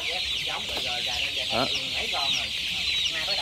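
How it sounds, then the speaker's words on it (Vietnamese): Chicks about 24 days old cluck and peep in a coop, a dense, continuous chorus of chirping close by, with someone speaking briefly over it. "Gà này tầm 24 ngày."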